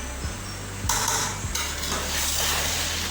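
Mutanjan sweet rice with murabba and dried fruits being stirred in a pot, a steady hiss with a few soft scrapes and knocks of a spoon against the pan, close, with no talking.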